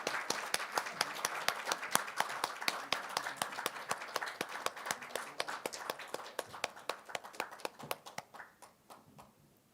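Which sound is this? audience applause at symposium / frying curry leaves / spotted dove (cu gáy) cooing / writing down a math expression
audience applause at symposium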